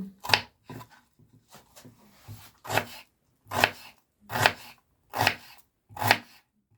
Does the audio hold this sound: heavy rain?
no